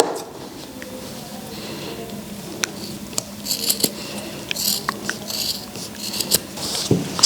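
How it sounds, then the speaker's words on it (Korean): Scissors trim macrame cord for a Christmas wreath, giving scattered sharp snips and small clicks at close range over a quiet room background. "가위로 이렇게 정리를 한번 해줄게요"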